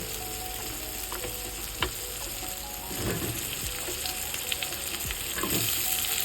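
Chicken pieces go into a pan of fried spices, a close, steady sizzle with stirring scrapes and clatters that swells louder partway through as the meat hits the hot masala, with no one talking.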